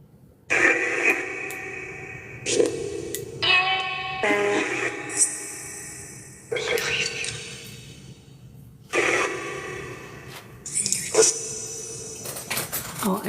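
A Necrophonic spirit box app sweeps through radio-like noise in choppy bursts, jumping between static, tonal fragments and garbled voice-like snippets, loud and close with brief gaps between segments.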